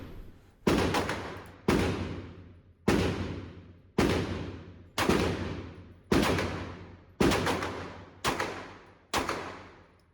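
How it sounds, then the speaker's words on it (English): A CZ P-09 pistol firing nine single shots at a steady, unhurried pace about a second apart, each a sharp loud crack with a decaying echo, and no voices between them. "Put another 38 rounds here through the gun."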